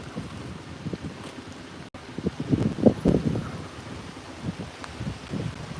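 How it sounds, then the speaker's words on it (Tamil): Heavy rain pouring down outdoors at a residential plot, a steady broadband wash with a few louder gusty surges and possible distant thunder, with no talking. "மழை பெய்யுது"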